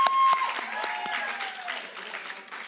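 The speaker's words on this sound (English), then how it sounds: "So give yourselves a round of applause, please." Graduating seniors at a high school senior awards event applaud with a dense, steady clapping crowd that holds at an even level throughout.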